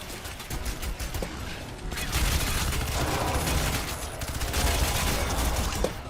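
Sustained gunfire from the Crysis video game: dense rapid shots and impacts fill the whole stretch, steady and fairly loud, with no voices.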